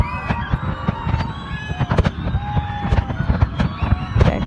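New Year fireworks burst at Jumeirah in a rapid run of sharp pops and crackles, while a crowd chatters and calls out under the bangs.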